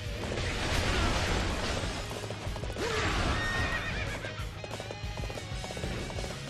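In Dynasty Warriors 8, horse hooves clip-clop steadily amid battle noise while a horse neighs clearly partway through, all dense and busy with clashing background sounds.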